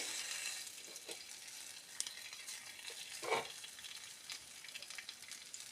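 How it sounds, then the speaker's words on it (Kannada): Indian borage leaves sizzle steadily as they fry in coconut oil in a pan, a soft, continuous crackle with a brief louder spatter midway; no voices. "ಹೀಗೆ ಹಾಕಿ ಹುರಿಯವು ಇದು ಡ್ರೈ ಆಗವು"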